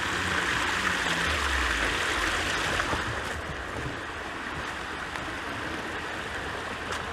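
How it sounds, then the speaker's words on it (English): A waterfall along an off-road trail, a steady broadband rush of falling water that stays loud and even throughout, heard alone with no voices. "Gotta love the waterfalls."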